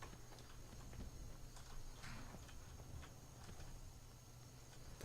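Horse hooves clip-clop at a walk in the video game Skyrim, a faint, irregular series of hollow steps over a low background hum.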